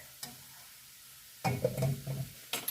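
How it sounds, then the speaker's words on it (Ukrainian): Chopped onion and carrot sizzling and being stirred in a pan for a corn-grit summer soup, with short scraping stir bursts and light crackling frying between quieter moments. "І ось цибулька майже посмажилась, додаємо собі морку"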